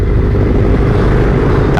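A motorcycle fitted with a Pro Speed Black Shark silencer, riding at steady speed with a loud, continuous engine drone and rushing wind that holds level throughout, ending in a brief rising whoosh.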